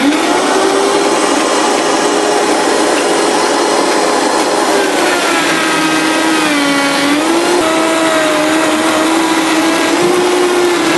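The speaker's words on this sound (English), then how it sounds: "so now we're going to blend this on high" A blender runs on high, churning raw pesto in a steady, loud, continuous whir with a droning pitch that shifts slightly as the mix moves, alone with no talking.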